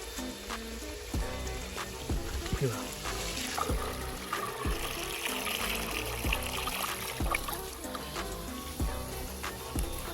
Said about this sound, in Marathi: मी इकडून पाणी भरतो असं.